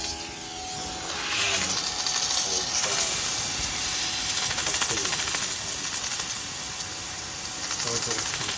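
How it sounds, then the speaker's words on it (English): A peristaltic pump feeds a light coolant mist onto a home CNC router, producing a steady airy hiss with a faint voice underneath. "it starts this peristaltic pump turning. Now you can hear that it's starting to just basically like a very light mist, rather than kind of big droplets."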